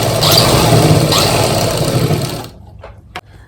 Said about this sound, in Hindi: इस तरह हम पूरे कॉलर पे बिल्कुल इसको सेट करते हुए सिलाई लगा देंगे।